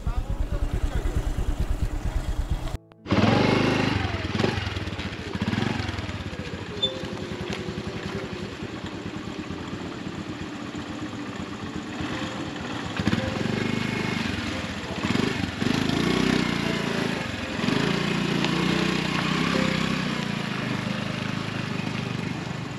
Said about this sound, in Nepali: स्कुटर यसरी सिकिँदैछ हाम्रो